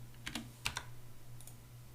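Computer keyboard typed on for a copy-and-paste shortcut while coding, a few quick, faint key clicks early on, then a steady low hum.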